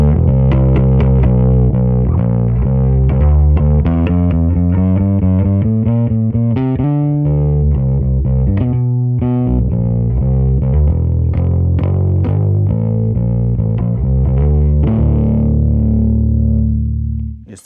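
A hollow-body bass guitar played through overdrive distortion, loud and close, with a run of gritty sustained notes and riffs, a brief break midway, then a final held note that fades out.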